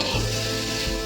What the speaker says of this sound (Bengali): টমেটোটা ভাজা হওয়ার পর একটুখানি পেঁয়াজ দিয়ে দিলাম, হালকা তেল দিয়েছি